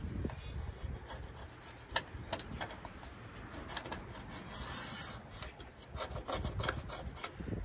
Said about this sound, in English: If you got like a flat trim tool there, you can kind of peel this old gasket off of here.